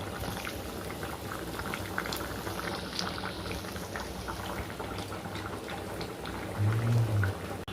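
Village-style spicy chicken gravy bubbles and simmers steadily in a pot, a constant close-up boiling sound with no talking.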